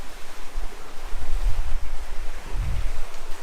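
Floodwater rushing into and swirling through a flooded garage: a continuous, close wash of churning water with low surging swells and wind-like rumble, and no speech.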